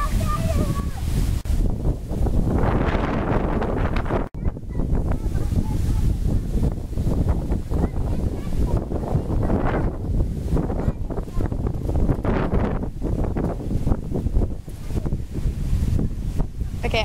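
Gusty wind roars outdoors near a backyard treehouse, a loud continuous rush buffeting the microphone in waves of rumble, with a sharp dropout partway through and no clear speech.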